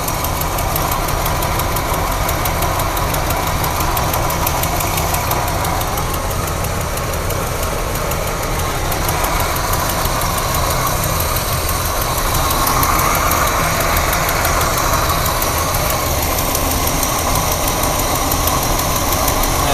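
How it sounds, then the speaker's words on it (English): A rough engine with an exhaust leak near the manifold connection idles loudly and continuously, with a steady ticking, puffing rhythm from the exhaust throughout. "I've got another pretty bad exhaust leak down low here somewhere."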